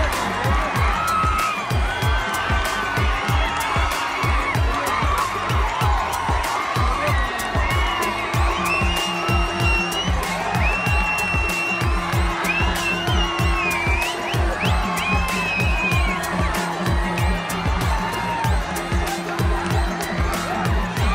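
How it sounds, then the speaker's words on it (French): A festival crowd gathers in a village square for a harvest celebration, cheering and whooping continuously with dense overlapping voices, shouts and some applause, loud and close throughout. "Une foule était rassemblée."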